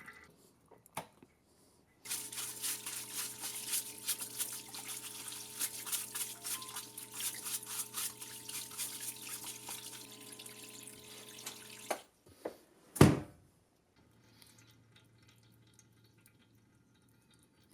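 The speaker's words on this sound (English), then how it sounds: "Pull that out, let it drain. See, this oil hasn't been changed in a while." Old, long-unchanged oil draining from the gas engine of a 2002 EZGO TXT golf cart, a steady trickling and splashing stream running for about ten seconds, then a sharp clunk and a quieter tail.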